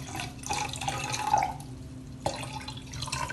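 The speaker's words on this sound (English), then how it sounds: "Now I'll pour some more water" Water poured from a container into a glass during a refraction experiment: a light trickling stream with drips and splashes, close and moderately quiet, no voices.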